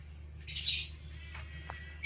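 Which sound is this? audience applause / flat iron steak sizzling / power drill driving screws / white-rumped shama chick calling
white-rumped shama chick calling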